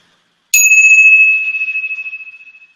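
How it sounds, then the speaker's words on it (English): A single clear chime rings out close and loud, its bright metallic tone holding and slowly fading with a gentle pulsing shimmer over about two seconds in an otherwise quiet room. "I'm just going to start with my chimes."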